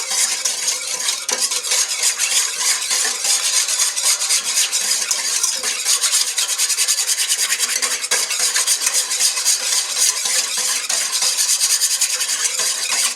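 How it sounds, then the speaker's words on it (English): Yeast and sugar are stirred in water in a bowl, a steady scraping and swishing of a utensil that goes on without a break for over ten seconds, close and fairly loud, with no talking. "you're going to mix until you don't see the little bits of yeast anymore"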